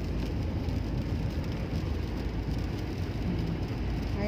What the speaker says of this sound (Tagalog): Mas lumakas ang ulan.